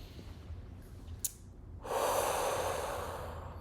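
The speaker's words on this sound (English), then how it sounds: "Okay, let's take a deep breath in." A person takes a deep breath during a guided relaxation session: a quiet inhale, then a long, loud, airy exhale that gradually fades, with no speech.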